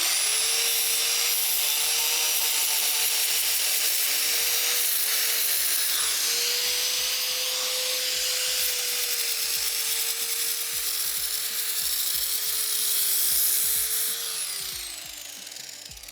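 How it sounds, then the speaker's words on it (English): An angle grinder cuts steel wire panel for a heavy-duty pet playpen, a sustained loud high-pitched whine holding steady for about fourteen seconds, then winding down near the end with no talking. "we're going to use a grinder, and it's pretty quick to get this cut"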